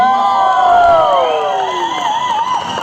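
An audience at a business presentation breaks into loud cheering, with high whoops and shouts from a close crowd that stay strong and then ease slightly.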